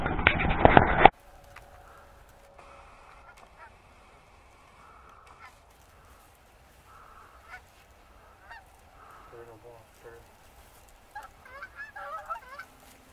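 A loud burst of goose honks opens the scene during a Pennsylvania goose hunt, then quieter, distant honking and calls drift in and out over a hushed outdoor background.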